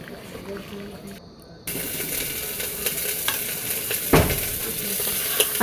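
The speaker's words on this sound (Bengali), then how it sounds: "এখন এই জলটা দিয়েও ভালো করে আমার মাটনটাকে কষিয়ে নিতে হবে।" Mutton pieces frying and being stirred in a pan with hot water added for a Bengali mutton curry, a steady loud sizzle with scraping strokes and one sharp clatter partway through, after a brief quieter start.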